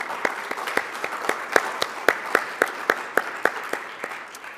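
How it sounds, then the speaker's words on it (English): An audience at a Jewish philanthropy conference gives applause, with distinct, evenly spaced claps standing out over a softer bed of clapping that continues for several seconds. "So a big round of applause for you to make this time today to come."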